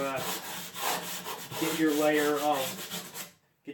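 Hand sanding a wooden end table with 100 grit sandpaper, giving close rhythmic back-and-forth rasping strokes that stop abruptly near the end.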